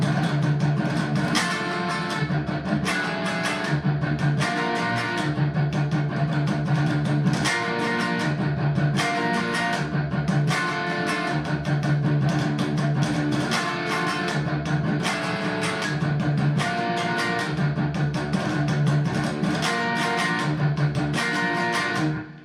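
Heavily distorted electric guitar plays a tight, aggressive metal riff built on bar chords, loud chugging accents in a repeating rhythmic pattern with no talking.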